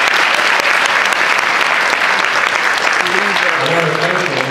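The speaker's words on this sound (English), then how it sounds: "Let's give him another round of applause." Loud, sustained audience applause for Reverend Coverdale at a Martin Luther King Jr. tribute event, a steady wash of clapping throughout; near the end a voice begins speaking over the fading ovation.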